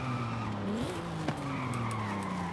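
A Nissan 370Z's tires skid and squeal under braking in the video game Forza Horizon 5, a loud continuous screech with shifting pitch over engine drone, close up.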